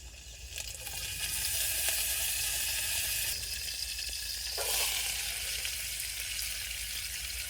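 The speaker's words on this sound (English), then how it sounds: "Just going to need to put the oil on the fire for a little bit again." Oil heats in a pan over an open fire while dinner is prepared, giving off a continuous, soft crackling sizzle that swells slightly at moments and runs on without any talk.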